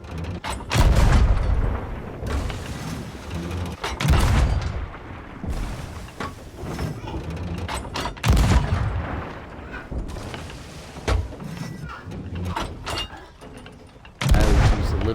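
Video game cannons fire in repeated heavy booms every couple of seconds, each a loud blast trailing into clattering mechanical noise, with rumbling in between.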